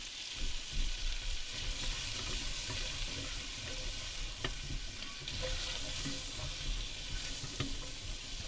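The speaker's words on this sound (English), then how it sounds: "turn the heat down a little bit so that they sweat rather than fry" Vegetables sizzle steadily in a pan on low heat while sweating during campervan cooking on a beach, with a continuous soft frying hiss, occasional stirring clicks and scrapes, and no talk.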